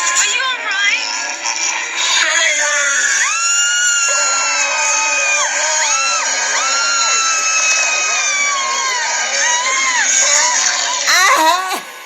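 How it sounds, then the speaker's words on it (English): A high, sustained scream drawn from Michael Jackson's "Thriller" plays loud and near over layered crowd-like cries and shouting, the wailing tones sliding and holding for several seconds before tailing off. "Y'all know what scream that is? Thriller."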